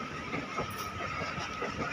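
A train arrives at Chandigarh railway station on the Ludhiana–Chandigarh run, heard as a low, steady rolling rumble with faint clatter, fairly quiet and distant.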